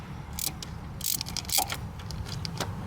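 A socket wrench on a long starter bolt of a 2012 Fiat ratchets in short bursts of clicky metallic ticks, close and fairly quiet, with brief pauses between strokes.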